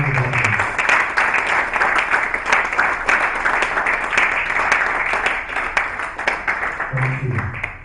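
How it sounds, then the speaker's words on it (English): A conference audience at a mortgage banking event gives a steady round of applause that carries on for several seconds, with a voice briefly heard at the start and end. "please give him another round of applause"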